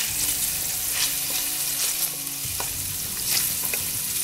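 Garlic and ginger sautéing in hot oil in a pan, a steady close sizzle with occasional scrapes and stirs, no voices.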